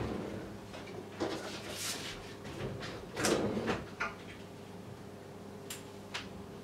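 An IKEA drawer and cupboard being handled in a kitchen, with several close wooden clicks and thuds, the loudest snap landing mid-way, among soft rustling and scattered taps.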